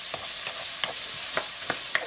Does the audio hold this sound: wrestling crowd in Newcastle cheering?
no